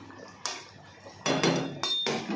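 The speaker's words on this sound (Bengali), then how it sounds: "আবার আমি পাঁচ মিনিটের জন্য ঢাকনাটা দিয়ে দিচ্ছি" A lid set onto a cooking pan of rui posto fish curry gives several sharp metallic clanks, a single knock first and then a quick cluster of clattering hits, close and loud.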